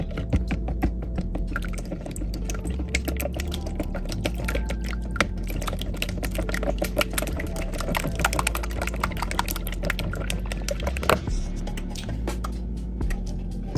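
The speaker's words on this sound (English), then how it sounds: "we're going to add 3 eggs as the directions stated. And we're going to whisk them." Three eggs for cornbread being whisked in a bowl, rapid continuous clicking and tapping of the whisk against the bowl, close and steady for the whole stretch.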